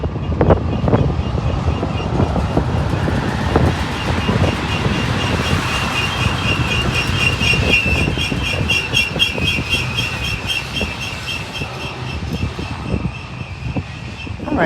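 A heavy Union Pacific mixed manifest freight train with seven locomotives rolls past outdoors on a windy day, a steady loud rumble of wheels and cars with rhythmic clicking and high squealing tones throughout.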